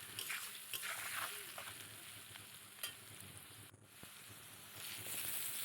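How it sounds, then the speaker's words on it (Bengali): Soft sizzling and scraping as mixed fish is stirred in a pan with salt and turmeric, quiet and continuous with occasional sharper clinks of the spoon against the pan. "নুন হলুদ দিয়ে একটু ভালো করে নেড়ে নেব।"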